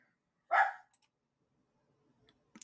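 A single dog bark, fairly close and loud, followed by silence and a couple of faint small noises near the end.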